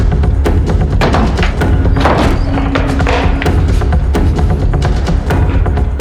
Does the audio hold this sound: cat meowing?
no